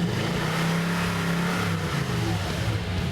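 A stock truck engine with its original exhaust revs while parked, a loud, close, droning mid-pitched roar that rises and holds with uneven throttle blips and no talking.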